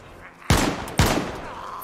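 Two loud, close gunshots from the new DMR rifle in the video game DayZ, fired about half a second apart, each followed by a booming decay.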